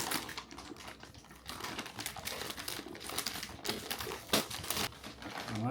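Packaging being unwrapped up close: a steady, dense rustling and crinkling with scattered sharper crackles throughout, no voices.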